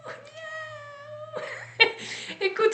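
A human voice mimics a cat singing a song, giving a sustained, wavering meow-like tone that breaks into brighter, more agitated yowling near the end.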